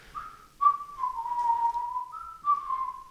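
A person whistles a short tune of sliding, sustained notes, clear and close, with a brief pause before a final rising phrase, alone in quiet.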